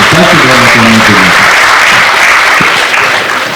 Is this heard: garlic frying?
no